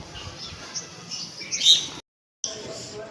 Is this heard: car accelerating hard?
no